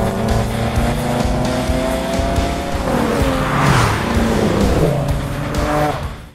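A 2012 Mercedes-Benz SL and other cars in an extreme street race over hundreds of kilometres: loud engines roar close by, tyres squeal, and a car sweeps past midway. No one speaks.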